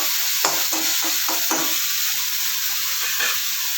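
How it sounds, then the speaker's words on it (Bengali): Kalmi greens sizzle and hiss in a hot pan, loud and steady, with several scraping stirs of a spatula in the first half and no talking. "আর যদি শাকটা এই যে একটু ভাজবো, একটু ভেজে নিলাম।"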